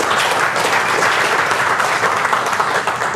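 Dense, steady applause from a seminar audience fills the space at full volume, many hands clapping together without a break.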